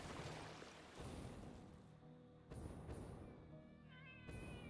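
Angry radioactive creature kitties in the game Satisfactory growl and yowl in a steady, fairly loud stretch of several cries, with game water and ambience running underneath.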